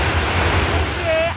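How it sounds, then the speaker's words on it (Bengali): Water pours down at the Hatta Dam falls at night, a loud, continuous roar of broadband rushing noise close by, with a brief faint whistle-like tone near the end. "এই যে দেখেন উপর থেকে পানিগুলো পড়ে এখানে নিচে পড়ে"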